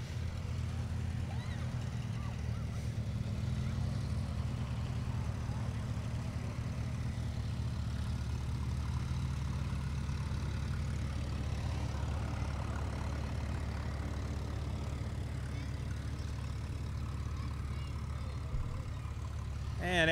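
A hot rod engine idles in a county fair parade, giving a steady, deep, low rumble that runs unbroken throughout at moderate distance with no other prominent sounds.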